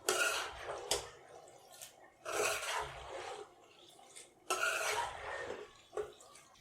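Pasta mixed with sauces is stirred in a pan, giving repeated wet scraping and clinking bursts of utensil on metal in three main strokes, close and moderately loud, with no talking.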